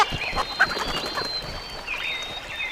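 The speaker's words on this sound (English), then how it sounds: "Strong ass chicken." A chicken in a video game clucks in short, repeated bursts close by, along with a few higher whistling tones.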